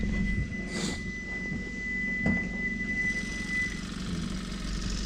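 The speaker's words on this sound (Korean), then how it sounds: "엔진은 정말 조용합니다" A Hyundai Veloster JS with a 1.6 T-GDi turbo engine idles quietly and smoothly with its hood up, giving a low, steady hum with a faint high whine and a couple of soft clicks nearby.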